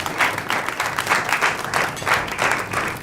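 Audience applause for an honored artist at a comedy stage event, a steady dense crowd clapping throughout at moderate loudness with no talk.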